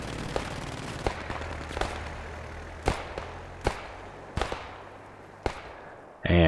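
Scattered gunshots from a video game battle crack out one at a time at irregular intervals, sharp and mid-distance over a low rumbling background, with a louder burst at the very end.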